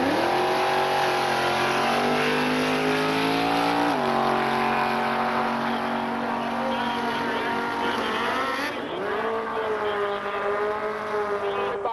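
Drag race cars on the KCIR quarter mile run as a steady, loud engine drone with rising pitch sweeps as they accelerate, under an announcer's continuous commentary.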